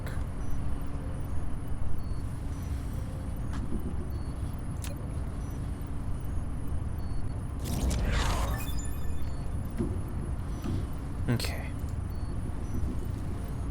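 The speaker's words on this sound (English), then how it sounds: "Why do the mining machines sound like an idling truck?" Mining machines in the video game Dyson Sphere Program hum with a steady low rumble like an idling truck, a continuous drone with a few brief clicks and a voice talking over it.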